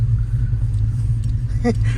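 A 450hp cammed single cab pickup rumbles loudly from inside the cab, its deep lopey idle steady throughout, with a brief voice cutting in near the end.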